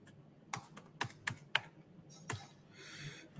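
Typing on a computer keyboard while setting up IP addresses for a networking lesson: several sharp key clicks in quick bursts, then a softer run of keystrokes, close and fairly quiet with no talking.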